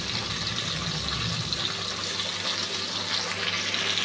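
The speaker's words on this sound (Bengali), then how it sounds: "জল দিয়ে দিচ্ছি পুড়ে যাতে না যায়।" Water poured into a pan where onion, ginger and green chili pastes are frying for a fish dish, giving a steady, close hiss of liquid without talk.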